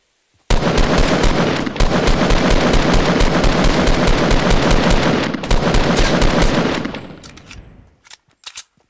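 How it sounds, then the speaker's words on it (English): Fortnite gunfire, loud sustained automatic bursts of rapid shots nearly filling the moment, a brief gap, then more firing that tapers into a few scattered distant shots. "They're also shooting at these guys."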